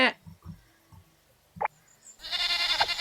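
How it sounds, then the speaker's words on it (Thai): A goat bleating in the video game Zoo 2 Animal Park, with a few short, close bleats spaced over a couple of seconds, then a burst of hissing noise at the end. "ร้องเป็นแพะเลย"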